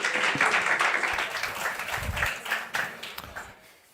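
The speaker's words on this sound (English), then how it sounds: "So let's give them a big round of applause." An audience at a conference forum applauds, a dense burst of clapping that fades out over a few seconds.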